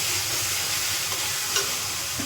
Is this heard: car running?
no